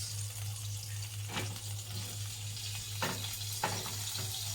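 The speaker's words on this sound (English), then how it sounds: "And then we're gonna wait until the butter melts." Butter melts in a pot on the stove for popcorn, giving a faint, steady sizzle with a few soft clinks and scrapes of the pot and a low background hum.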